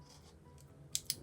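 Scissors snipping through a thin aluminium cola can while making a folded pen: two short, sharp metallic cuts close together near the end, after a quiet stretch of faint handling noise.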